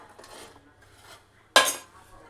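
A spoon stirring food in a pan while cooking a simple lunch of rasam with coriander leaves added, with soft scraping and then one sharp metallic clatter near the end.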